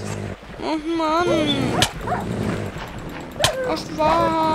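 Several dogs barking and yipping in the video game Minecraft, short sharp barks and whines scattered across the clip amid game noise, with someone talking over them.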